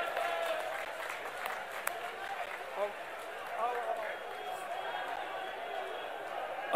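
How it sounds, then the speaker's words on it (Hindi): A crowd at a Congress party political rally claps in welcome, a moderate, somewhat distant wash of applause with chatter and an announcer's voice mixed in. "जोरदार तालियों से स्वागत किया जाए।"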